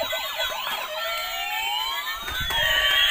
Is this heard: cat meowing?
no